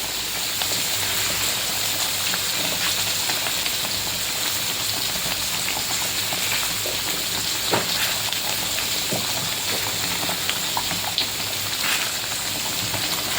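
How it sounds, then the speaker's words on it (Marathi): A pot of mackerel fish pickle mixture boiling steadily, with a continuous crackling, bubbling hiss and occasional sharper pops, close and unbroken with no voices over it. "चांगली उकळी आली आहे"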